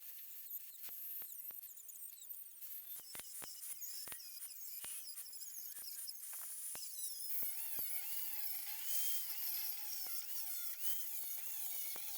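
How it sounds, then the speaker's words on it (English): An angle grinder with a cutoff wheel cuts into a steel circular saw blade, giving a high, thin whine with scattered sharp ticks, then a dense continuous screech in the latter half; no talk. "So I'm using an angle grinder here with a cutoff wheel."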